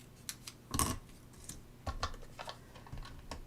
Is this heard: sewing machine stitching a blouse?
no